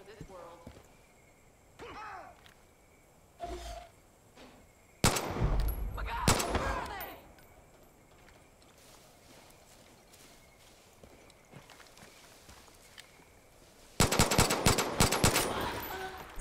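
Gunfire from the video game Far Cry 5: short bursts of rapid shots, one around the middle and a louder rattling volley near the end, between quieter stretches of ambient game sound.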